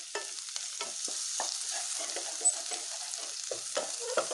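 Fish coated in ground masala frying in a pan, a steady close sizzle with soft crackles and occasional stirring scrapes, no voices.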